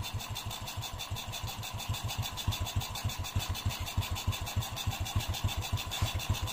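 Honda Revo motorcycle engine, converted from fuel injection to a carburetor, idling steadily up close with a rapid, even putter that holds its beat throughout.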